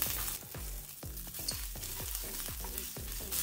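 Finely chopped ginger and green chili sizzle and fry in a pan on medium flame while making paneer cutlets, with a steady hiss broken by repeated stirring scrapes.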